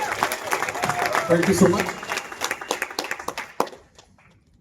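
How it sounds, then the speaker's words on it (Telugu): Applause from an audience at a company meeting: dense clapping that thins into scattered claps and stops near the end, with someone speaking briefly over it. "సార్కి ఒక గ్రేట్ రౌండ్ ఆఫ్ అప్లాజ్ మనం ఇవ్వాలి"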